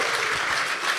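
Audience applause at a hacker conference, voting on a badge hack entry: a steady, dense wash of clapping from a large crowd, continuous and fairly loud throughout with no break.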